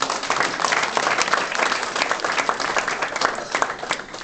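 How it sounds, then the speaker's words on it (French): An audience in a small hall claps steadily, a dense ripple of many hands sustained for a few seconds with a faint murmur of voices beneath. "Applaudissez pour vous-même, s'il vous plaît."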